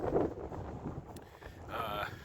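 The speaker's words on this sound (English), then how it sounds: "I think it'd be windy, and it's a north wind" Gusty, cold north wind buffets a microphone, rumbling unevenly throughout with a brief brighter rushing tone near the end.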